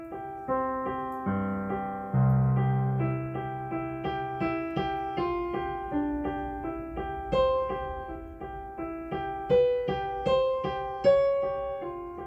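Two-handed piano melody of a piece from Pride and Prejudice, low bass notes under a higher line, a steady flow of struck notes ringing and decaying, played alone without talk.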